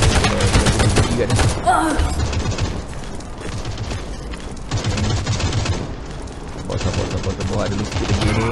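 Rapid bursts of gunfire in the mobile shooter Modern Strike Online, loud automatic fire and booms running through the whole stretch with brief lulls, in-game sounds layered under occasional voices.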